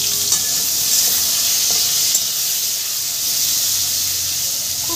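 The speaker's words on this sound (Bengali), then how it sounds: "ঠিক এইভাবে আর একটু আমি ভেজে নেব" Ridge gourd frying in mustard and poppy seed paste, giving a continuous loud, hissing sizzle close by with an occasional faint stir and no voices.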